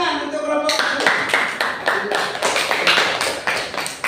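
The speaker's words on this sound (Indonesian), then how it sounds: "Ya, tepuk tangan untuk kelompok." Students in a classroom clap for a student group, a close, fairly loud burst of rhythmic hand claps with sharp individual strikes following a brief moment of speech at the start.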